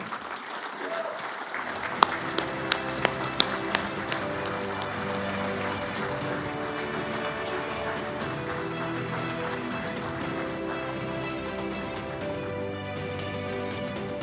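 Audience applause rises after a hall of fame inductee is welcomed at the St. Louis Sports Hall of Fame, with a few sharp claps near the start before broad, sustained clapping fills the room, carrying music-like tones underneath.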